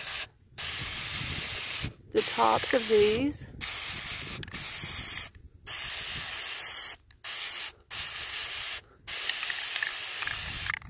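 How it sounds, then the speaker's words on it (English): Flat black spray paint misted onto screw heads, a series of short close hissing bursts separated by brief pauses, with a voice speaking briefly between sprays. "I'm using this flat black spray paint."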